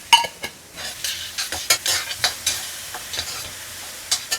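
Mushroom and pea butter masala gravy sautés in a pan, with steady sizzling under repeated scraping strokes and light clinks of a spatula against metal, close and fairly quiet.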